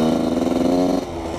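A Yamaha YZ125 dirt bike two-stroke engine holds a high, buzzing rev close by, then drops off sharply after about a second to a lower idle.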